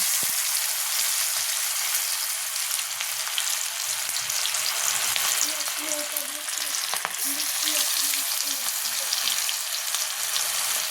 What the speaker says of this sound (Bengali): এখন আমি এটাকে বড়ার আকৃতিতে তেলের ভিতর ছেড়ে দিচ্ছি।